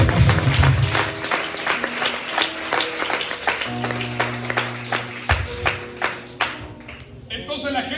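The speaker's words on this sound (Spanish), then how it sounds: "Denle una salva de palmas al Señor en esta hermosa noche." A church congregation claps and applauds during an evening service, a run of uneven, rhythmic handclaps with voices mixed in and a speaker talking over them.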